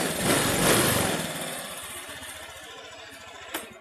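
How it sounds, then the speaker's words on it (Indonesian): A Honda Vario 125 scooter engine settles into a steady low idle after a brief louder burst at the start, close and fairly quiet, with a small knock near the end. "Dari putaran stasionernya sudah terlihat terasa jika putaran mesinnya itu lebih"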